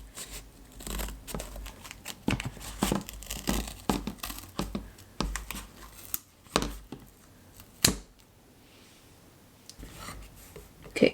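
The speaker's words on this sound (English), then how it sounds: "So first, I'm just going to cut off this mirror." A blade cutting the mirror off an eyeshadow palette, heard as scattered close scraping, snapping and crinkling plastic sounds with irregular clicks and small bangs, fairly quiet, with a sharper crack near the end.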